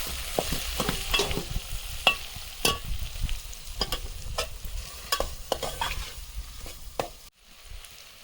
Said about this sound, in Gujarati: હવે આપણે એને હલાવી નાખીએ.